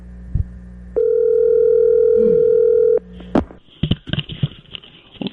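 A steady telephone dial tone holds for about two seconds on a cellular phone call, cut off by a click and followed by short bursts of handling noise and faint voices.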